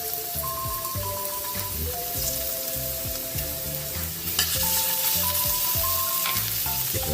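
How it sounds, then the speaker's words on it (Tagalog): Garlic sautéing in a little cooking oil for ginisang monggo, a Filipino mung bean stew, with steady close sizzling and crackling throughout, the frying growing louder partway as more goes into the pan, no talking. "Magigisa na rin tayo para sa ating ginisang munggo. Lagyan natin ng konting mantika."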